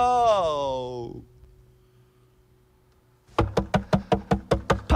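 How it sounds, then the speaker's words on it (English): Someone knocks hard and fast on a door, about eight loud raps in a steady rhythm. They follow a stretch of near silence and an earlier burst of sung or drawn-out vocal tones. "Let me in, please open the door. I think I fucked up, Patrick."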